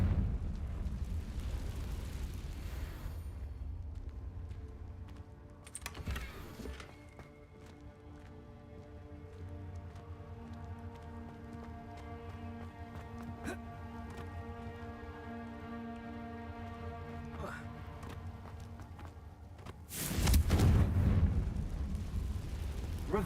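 Confringo blasting spells explode in the video game Hogwarts Legacy, two loud, sharp bursts several seconds apart over steady game music and ambience.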